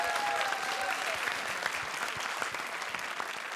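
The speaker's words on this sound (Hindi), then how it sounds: "तो जोरदार तालियों से उनका हौसला बढ़ाइए।" A comedy show studio audience breaks into steady, dense applause for a contestant, an even wash of clapping that holds at a constant level throughout.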